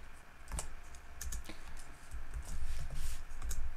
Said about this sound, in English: I'll just type these in now